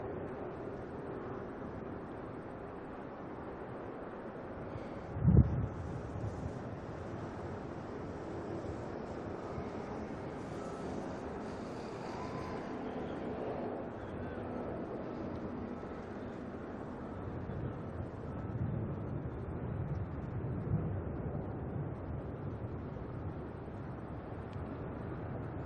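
A Jetstar airliner departs Auckland Airport for Rarotonga, heard as a faint, distant, continuous jet roar that swells gently over time, with one sharp thump early on.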